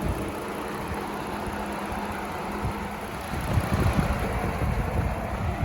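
A Jeep Gladiator's 3.6-liter naturally aspirated V6 idles with a steady, close, fairly loud low rumble, swelling slightly in its last seconds, with no talking.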